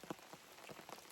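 Steady rain falls on a mountain trail, making a dense patter of drops hitting close surfaces, soft and continuous with no voices.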